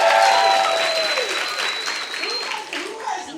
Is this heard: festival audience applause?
yes